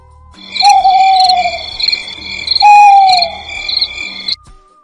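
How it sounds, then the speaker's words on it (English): An owl hoots loudly and close by, giving two long, slightly falling hoots about two seconds apart over a faint background, with no voices. "owl,"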